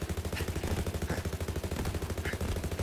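Rapid, steady automatic gunfire from a charged cannon during a boss battle in the video game Borderlands 3, a fast unbroken rhythm of loud, punchy shots throughout, with a few brief higher accents.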